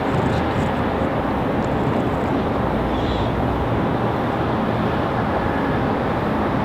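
An American Airlines jet from LaGuardia arrives at Raleigh-Durham International Airport, giving a loud, steady, broadband roar that holds for the whole stretch, with no voices.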